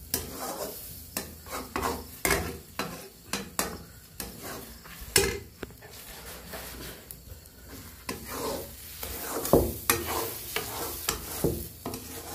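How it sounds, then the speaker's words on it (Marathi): Beaten eggs for masala egg bhurji are stirred and scraped around a hot pan, steady irregular strokes with a light sizzle underneath, close and moderately quiet. "चांगलं आपण अंडे फोडून घेतले ते चांगलं आता हलवून घेऊया।"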